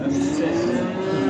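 A calf moos in a long, sustained, loud low call at a busy livestock market in Beylagan, with crowd noise around it.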